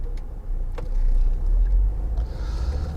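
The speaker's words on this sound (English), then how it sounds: "Right, oncoming vehicle, so I'll give way." Steady low road rumble from inside a car on a narrow lane near Reculver, swelling slightly in the middle as an oncoming vehicle slips past close by, with faint mechanical clicks over the drone.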